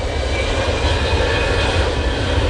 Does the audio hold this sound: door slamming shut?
no